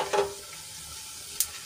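Cumin seeds sizzle in hot oil with a pinch of asafoetida, a bay leaf, star anise, a cinnamon piece and two dried red chillies: a brief crackling burst at the start, then a quiet hiss and a faint pop near the end.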